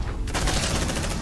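Gunfire in the video game Aliens: Dark Descent on Nightmare difficulty, a loud, rapid stream of automatic shots hammering continuously without pause.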